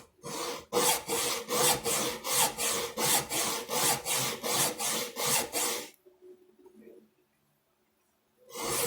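A hand saw cuts a wooden dovetail joint in a steady run of about twenty loud, rhythmic rasping strokes, then stops, leaving a faint rustle and near silence before one more stroke starts at the end.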